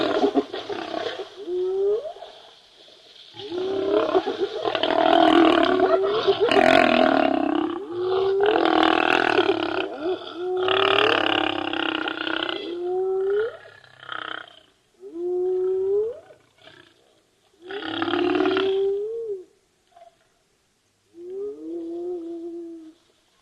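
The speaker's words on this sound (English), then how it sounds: "I don't think I've ever heard a lion growl so much." Wild lions give loud, close growls and rumbling roars in long drawn-out bursts. The later calls come shorter, with gaps of silence between them.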